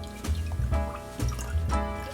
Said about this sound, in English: then you just want to strain that over your ice cube